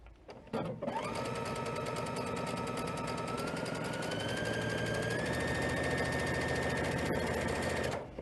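A sewing machine runs steadily for several seconds, its needle moving to the side as it stitches about 1/8 inch along the edge of a trim. The whirring is close and continuous, with a slight rise in pitch partway through, and no one speaks.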